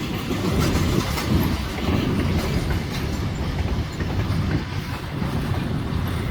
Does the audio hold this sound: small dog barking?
no